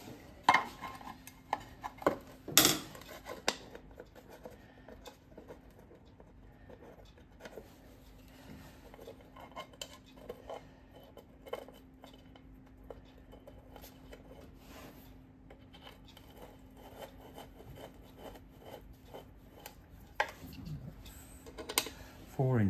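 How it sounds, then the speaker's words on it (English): Metal gear case being refitted on a Ransomes Ajax cylinder mower in a workshop, with scattered close clanks, scrapes and light taps, one sharp knock early on, over a low steady hum. "So let's put the gear case back on."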